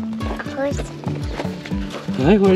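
Hooves clip-clop in a steady walking rhythm on a winter pony ride in the Bucegi Mountains, with a horse's whinny-like call near the end and a voice speaking over the hoofbeats.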